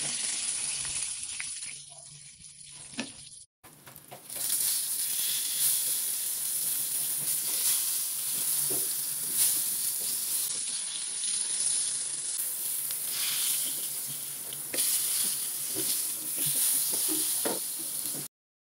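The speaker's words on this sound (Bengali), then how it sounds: "এই বেগুনগুলোকে উল্টিয়ে পাল্টিয়ে মোট 4 মিনিট ভাজতে হবে" Brinjal slices fry in hot oil as they are turned, giving a loud, steady sizzle and hiss with brief knocks from stirring and flipping.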